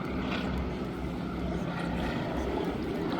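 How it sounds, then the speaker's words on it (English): A Boeing PT-17 Stearman biplane flies a wing-walking display at Duxford, its radial engine droning steadily and loudly at some distance. "that beautiful sound of the engine once again"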